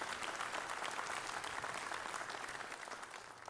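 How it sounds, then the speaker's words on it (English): A church congregation claps in praise to the Lord, a dense, steady wash of many hands sustained throughout and tapering slightly toward the end, with no talking over it. "let's give the Lord a hand clap of praise"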